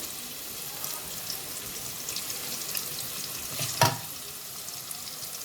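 Vegetable Manchurian frying in a pan with vegetables and tomato ketchup, a faint, steady sizzle with a brief louder stir or splash near the end.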